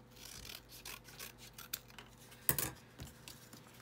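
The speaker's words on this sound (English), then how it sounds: "I just tore this, so I'm going to actually cut it." Scissors snip through paper for a journal page in a series of short, crisp rasping cuts close by, with one sharper snip standing out near the end; no one speaks.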